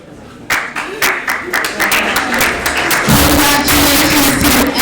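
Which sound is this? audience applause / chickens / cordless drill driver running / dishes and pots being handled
audience applause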